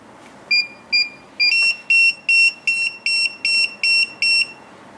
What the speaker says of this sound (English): As you can see, the beep is very fast.